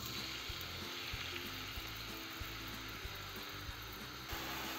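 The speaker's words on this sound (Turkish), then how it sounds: "Soğanların rengi şeffaf renk alana kadar kavuracağım." Chopped onion frying in olive oil in a pan over medium heat, a steady dense sizzle with occasional soft stirring taps, close and continuous with no talking.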